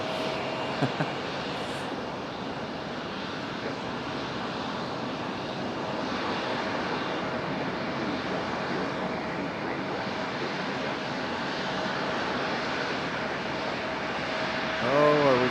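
A fixed-wing airplane at Raleigh-Durham International Airport, departing or arriving, produces a loud, steady engine roar that carries through the whole stretch, with faint background sounds near the start and end.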